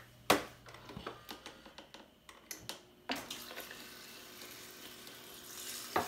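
A small splash of water pours into a blender for a kid-friendly protein shake, a steady running wash after several sharp clinks and taps, fairly close and moderately loud, with no talking.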